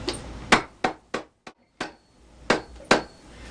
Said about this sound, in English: take a hammer and hammer it lightly